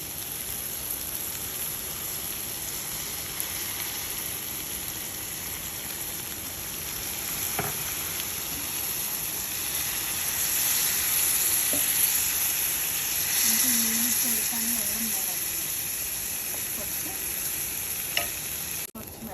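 Curry masala for a Kerala fried sardine curry sizzles in a pan over raised heat after water is poured in, giving a steady, close hiss throughout with a few faint stirring clinks and no talking.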